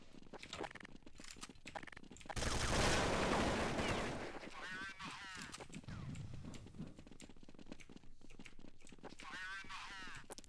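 Gunshots in Counter-Strike 1.6, sharp cracks scattered through the stretch with one dense burst of fire, mixed with game effects and quiet talk.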